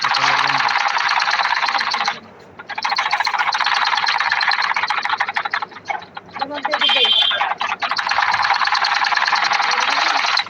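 A sewing machine stitches children's shorts in loud, fast, continuous bursts with brief stops between runs, and a voice is faintly heard in one gap.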